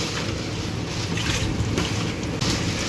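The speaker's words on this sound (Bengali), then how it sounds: "এত বৃষ্টি হচ্ছে হাওয়ার সঙ্গে বৃষ্টি" Dense, steady roar of heavy rain mixed with gusting wind, loud and continuous throughout with no voices.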